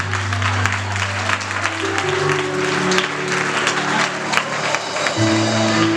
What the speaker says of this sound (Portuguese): Bate palmas se você quer receber a direita.